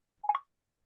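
An iPhone unlocking, a single short, crisp click-like chime heard alone against complete silence.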